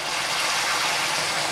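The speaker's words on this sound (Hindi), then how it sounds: "अभी मैं डालूंगी गर्म पानी थोड़ा सा" Hot water is poured into a simmering chicken and potato curry, giving a steady, close rushing hiss that holds evenly throughout without pause and with no talking.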